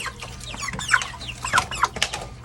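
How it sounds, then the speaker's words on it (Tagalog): Domestic chickens clucking and murmuring close by, with several short, sharp calls over a low steady background hum. "Ayan ang mga manok. Yan ang mga alagang manok."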